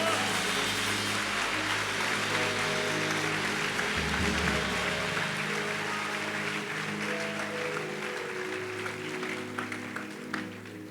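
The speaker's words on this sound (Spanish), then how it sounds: "Si aplaudir, aplauda con fuerza." Applause from a church audience fills the room, a steady wash of clapping that carries on for several seconds before thinning out near the end.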